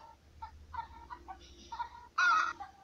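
Chickens clucking in the mobile farming game Egg, Inc., a faint string of short, irregular clucks and squawks, ending in one louder, longer squawk near the end.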